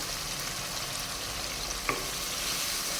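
Tomato pickle frying in oil, a steady close sizzle filling the whole stretch, with one brief scrape of stirring near the middle.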